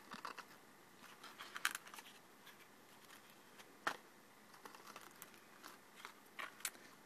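A sharp pair of scissors snips fabric or ribbon at an angle for a small craft project, with quiet, close crisp cuts at irregular intervals and light rustling between them.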